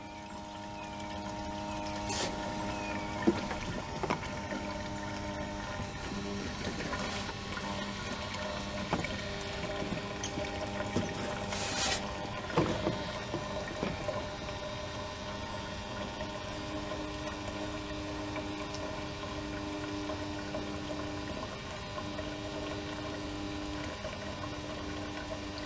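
A Harbor Freight transfer pump pushes gasoline into a 5-gallon gas can, giving a steady, close rushing pour of liquid with a continuous pump drone that lasts throughout.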